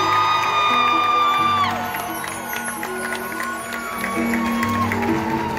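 A live show audience cheers and whoops loudly, with rising shouts and tonal cries that ease partway through and then swell again; applause is faint under the crowd noise.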